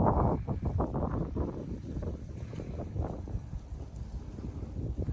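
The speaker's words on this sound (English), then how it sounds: "it's good and windy" Steady wind buffets the microphone in low, rumbling gusts, continuous and fairly loud with no voices, at a high viewpoint at Garden of the Gods.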